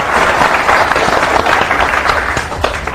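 A large audience claps together through a religious gathering, a loud, dense wash of applause that keeps going steadily without fading.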